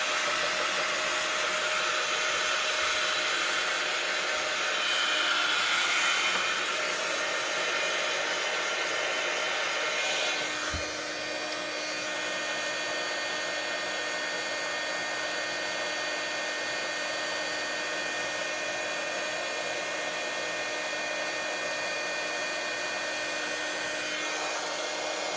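A hair dryer runs continuously to dry a mixed media steampunk journal cover, a steady close whooshing drone that shifts slightly in tone partway through as the dryer is moved.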